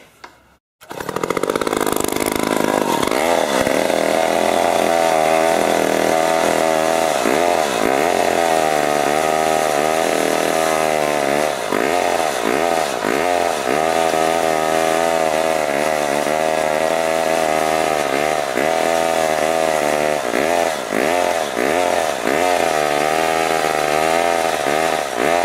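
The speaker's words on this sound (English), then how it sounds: "gas-powered reciprocating saw." A 1960s Wright gas-powered reciprocating saw, a chainless two-stroke cutter, starts up and then runs loud and close for the whole stretch, its engine buzzing steadily with slight wavering in pitch and no voices over it.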